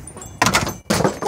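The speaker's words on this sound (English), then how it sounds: "I'm gonna close the door." A door is pushed shut close by with two heavy thuds and some rattling, loud and brief, with no one talking over it.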